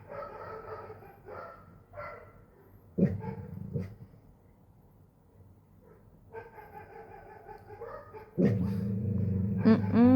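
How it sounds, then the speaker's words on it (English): Pet dogs bark, yip and whimper in short bursts close by, growing into loud sustained barking toward the end, with someone speaking among them indoors. "My dogs can't hear other dogs bark because then they have to bark immediately."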